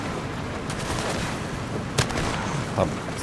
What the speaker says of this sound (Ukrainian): І знову вони стріляють